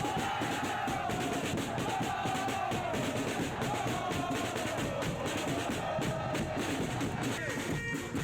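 A packed football stadium of Indonesian fans roars in a dense, steady wash of crowd noise, with a sustained chant or horn-like tone running through it and no single voice standing out.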